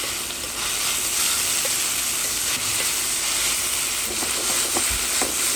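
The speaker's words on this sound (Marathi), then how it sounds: "चड मातशें ड्राय जावपा लागला इल्लें तेल घालया आनी बरें तळसून काडया." Shrimp and mushrooms coated in recheado masala fry in oil with a dense, continuous sizzling hiss and occasional soft crackles and pops. No one speaks.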